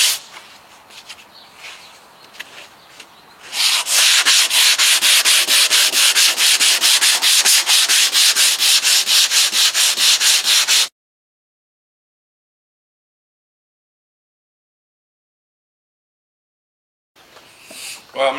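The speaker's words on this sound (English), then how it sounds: "Minnie finally got done sanding our fiberglass pieces, motorcycle fiberglass pieces" Steady, loud rubbing and sanding on old fiberglass motorcycle body parts runs for several seconds, with quieter scraping before it, then silence, then a brief return of sanding at the end.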